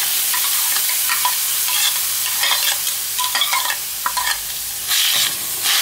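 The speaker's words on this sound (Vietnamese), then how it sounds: "Thì mình sẽ cho khóm vào mình xào trước nha." Grated pineapple being stir-fried in a pan for banana jam, a continuous loud sizzle with scraping stirs and crackles throughout, no voices.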